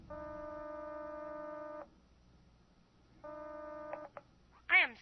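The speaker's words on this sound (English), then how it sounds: "I must have dialed it wrong." Touch-tone telephone dialing in an old radio horror drama: a sustained tone holds, cuts off, then returns with a pair of short dial beeps, followed by a brief high chirp, all fairly quiet.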